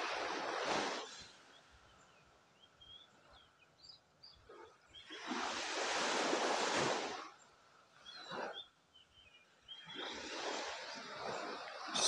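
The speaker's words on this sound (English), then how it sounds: "of the waves, of the water, of the ocean as it meets the sand," Ocean waves washing onto a soft sandy beach in three broad surges, each swelling into a loud hiss of surf and then easing back to a quiet lull between breakers.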